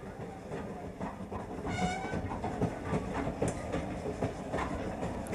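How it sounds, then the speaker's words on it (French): Train rolling on rails in 1960s China, a continuous rumble with rhythmic clickety-clack wheel beats and a brief horn-like tone near two seconds, fairly close and steady. "La Chine est immense et les trains qui la parcourent se déplacent sans précipitation, mais avec sûreté."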